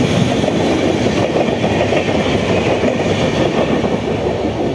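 A Barbil-bound express train rolls through Santragachi Junction, a loud, close, continuous rumble of wheels and wagons with a rhythmic clickety-clack running throughout.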